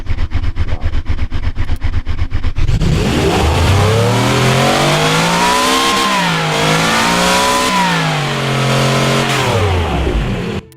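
A powerful turbocharged V16 hypercar racing engine idles with a rapid throbbing beat, then revs up and down in loud, sweeping surges that hold at high pitch.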